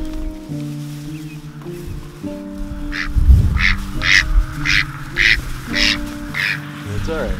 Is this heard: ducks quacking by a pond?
yes